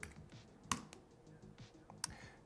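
Rapid keystrokes on a computer keyboard while entering git commands to set up a Qiskit Terra repository, a steady patter of soft clicks with a few sharper, louder taps standing out, close and without talk.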